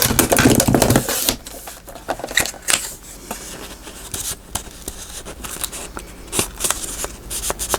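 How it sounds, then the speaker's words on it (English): Scissors trimming a little off the side of a magnetic closure band for a handmade envelope journal, a few short crisp snips and rustles of the material up close, with no talking. "Okay, so we're going to cut a little off that side."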